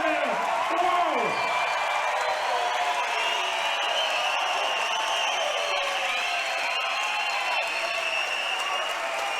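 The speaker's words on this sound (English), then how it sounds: "the crowd definitely showing their appreciation for that one" Crowd at an amputee Muay Thai fight cheering and applauding, a dense, loud, sustained wash of clapping and shouts with whoops rising over it, continuing evenly throughout.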